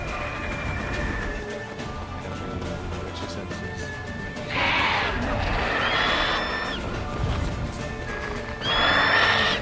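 Horse neighing in the Witcher 3 video game: two loud, shrill whinnies rise near the middle and end over a steady game backdrop with faint hoof clip-clop.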